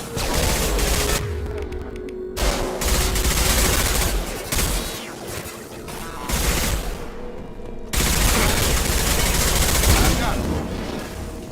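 Rapid gunfire in the sci-fi shooter Mass Effect Legendary Edition, loud bursts of automatic fire and shots rattling through most of the stretch, with brief lulls between volleys.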